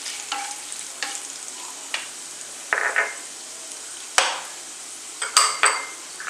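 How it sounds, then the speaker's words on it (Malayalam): Cashew nuts frying in a pan for Kerala tomato rice, with scattered scrapes and clinks of a spoon stirring against the pan at irregular intervals over a soft, steady sizzle. "ഇതിൻ്റെ കൂടെ കുറച്ച് കാഷ്നട്ട് ചേർത്തേക്കാം."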